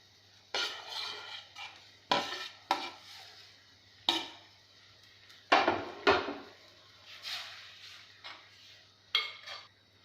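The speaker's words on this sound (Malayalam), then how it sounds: "ഇനി നമ്മൾ നേരത്തെ വറുത്ത് വച്ചിരിക്കുന്ന പകുതിയോളം വറുത്ത് വച്ചിരിക്കുന്ന മീന്, ചൂരമീന് നമുക്കിതിലോട്ട് ഇട്ട് കൊടുക്കാം." Half-fried chunks of tuna (choora) tipped into a spicy kudampuli fish curry pan: a series of separate clattering, scraping bursts from a spoon on the pan, close and clear, with quiet gaps between them.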